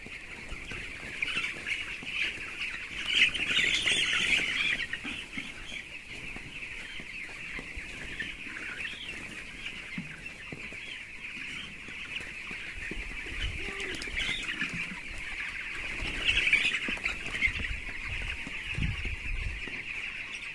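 Poultry cluck and squawk nearby over a constant high insect-like hum, with a few louder bursts of calls.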